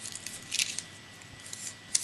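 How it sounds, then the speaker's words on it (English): Paper notes from a picture book edit crumpled by hand, giving brief crackling bursts of rustle, loudest around the middle and at the very end, close and fairly quiet. "We'll crumple that up."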